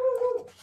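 A dog lets out one short, high-pitched whimper close by. The whine wavers briefly before trailing off into faint breathy noise.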